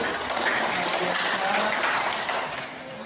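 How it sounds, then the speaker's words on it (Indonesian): A burst of clapping from a group at a teacher training session in Sikka, Indonesia, a dense steady patter that tapers slightly at the end. "tepuk tangan untuk kita semua dulu"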